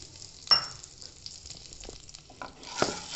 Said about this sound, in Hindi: जल्दी से इसको चला लेंगे ताकि अच्छे से घी में मिक्स हो जाए